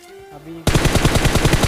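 An M4 assault rifle fires in the mobile battle royale game BGMI: after a quiet moment, a loud, close, rapid burst of automatic gunfire runs steadily to the end.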